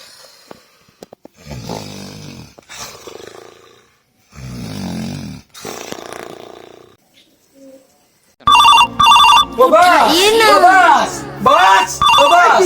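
A phone ringtone rings loudly and repeatedly after several seconds of people talking, the melodic tone cycling in a steady pattern.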